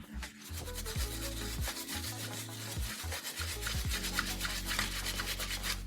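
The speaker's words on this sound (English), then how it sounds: "I take my brush, a bit of classic Marseille soap, head to the sink, and I start to do this." Metal furniture handles being scrubbed at a sink with a brush and Marseille soap: close, rapid back-and-forth rubbing and bristle scratching, steady and continuous with no talk.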